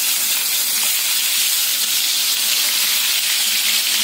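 Marinated rohu fish pieces fry in hot oil, producing a loud, dense, unbroken hissing sizzle at close range with no voices.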